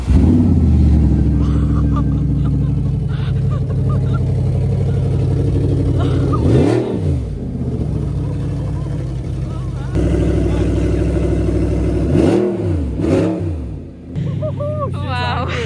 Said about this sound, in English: When she started, I was like, what the hell? Like Growling, proper growling.